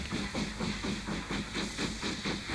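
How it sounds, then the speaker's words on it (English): American-built USA tank steam locomotive, a switcher type, chuffing steadily with rhythmic exhaust beats and hiss, close and fairly loud, no voices. "An untypical loco here today, the American-built USA tank is also on duty."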